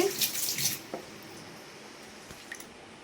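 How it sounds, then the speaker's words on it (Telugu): Ration rice is swished and squished in water in a kitchen, with a loud splashy burst at first and then quieter sloshing and drips. "బాగా రెండుసార్లు మూడుసార్లు కడుక్కోండి"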